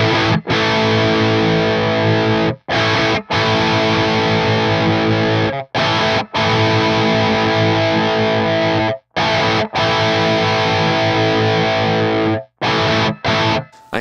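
An electric guitar played through an Axe-Fx parametric EQ block with a narrow frequency boost gives a heavily distorted, nasal wah-like tone, loud and sustained, with short breaks between strummed phrases.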